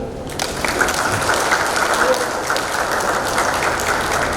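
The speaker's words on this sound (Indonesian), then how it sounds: "Tepuk tangan dulu." An audience at a medical faculty oath-taking and graduation ceremony applauds a professor's birthday, a dense, steady roll of clapping in a large room, with some voices underneath.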